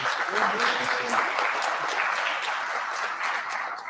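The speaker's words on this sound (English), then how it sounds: "Can you give her a round of applause, please?" A room full of people applauds at a panel discussion on hiring veterans for Ohio's workforce, with continuous dense clapping and voices mixed in underneath.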